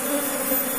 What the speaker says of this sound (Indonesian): lebah baru datang,